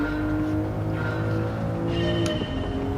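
A race car in Gran Turismo 7 during a National A licence exam drives with a loud sustained engine drone and shifting tonal whine, close and continuous, with a brief squeal-like blip near the end.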